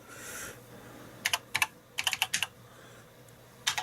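A BBC Master computer keyboard is typed on in quiet clusters of crisp, clicky keystrokes separated by short pauses, close and fairly soft, with no voices.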